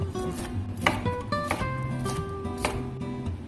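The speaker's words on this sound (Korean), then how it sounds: "노란 파프리카도 비슷한 크기로 썰어주세요" A knife chops yellow bell pepper on a cutting board in a quick run of crisp, close taps over soft background music.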